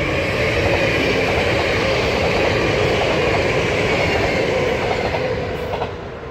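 A train passes close by on the tracks of a Dutch railway line, a loud steady rumble with rhythmic wheel clatter and wind rush that fades slightly at the end, with no talking.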